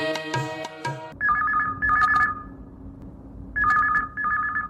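A telephone rings on a Chhattisgarhi-song phone-in radio show, two bursts of electronic trilling rings separated by a pause, following a brief musical tone at the start, with no voices.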